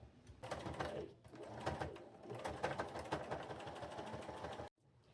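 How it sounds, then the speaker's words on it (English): A sewing machine stitches through denim jeans in quick whirring runs, pausing briefly between bursts and stopping abruptly near the end; close and fairly quiet. "So off to the sewing machine I go."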